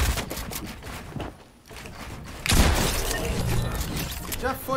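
Rapid bursts of Fortnite gunfire crackle in quick succession, with a brief lull before a louder, dense barrage and scattered metallic clatter.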